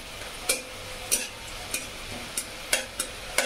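Dried red chillies and whole garam masala fry in hot oil with a steady low sizzle, broken by six or seven sharp utensil taps or clicks against the pan.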